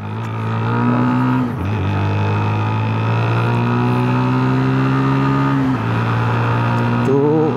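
A Unique Tornado 150 motorcycle ridden straight ahead, its engine droning loud and steady through the gears, with two brief dips in pitch at shifts and the revs rising again near the end.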